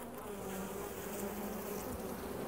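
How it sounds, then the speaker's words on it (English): Honey bees buzzing on a hive frame during a beekeeping inspection, a dense steady hum close up with no talk. "Robin, how often do you go through your bees"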